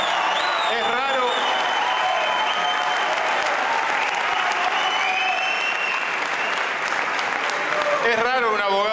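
An audience greets a lawyer stepping up to be sworn in as justice minister with loud, sustained applause and cheering voices throughout, during a mock swearing-in segment of an Argentine live show.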